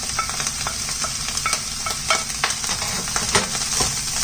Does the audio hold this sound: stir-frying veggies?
yes